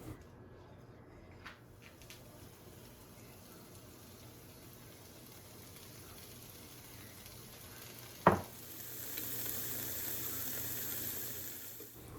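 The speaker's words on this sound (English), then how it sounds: "just let those cook, stirring it occasionally until the onions are translucent" Onions, tomatoes and garlic sizzle softly in a pan, a faint steady frying hiss with a sharp clink near the end before the sizzle grows slightly louder.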